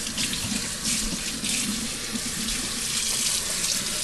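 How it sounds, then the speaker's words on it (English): Running water from a kitchen tap splashing into a sink as a sourdough starter jar is rinsed, a steady continuous hiss and patter, close and even, with no speech. "now I'm going to rinse this off."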